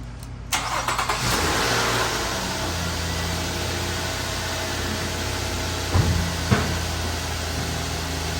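A car engine cranks briefly, catches and settles into a steady loud idle, with a couple of small revs later on.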